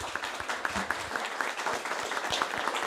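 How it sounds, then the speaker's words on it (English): Audience round of applause for a panel at an environmental event on the impacts of war, moderate scattered clapping from a modest crowd that continues steadily throughout. "Let's give them a round of applause."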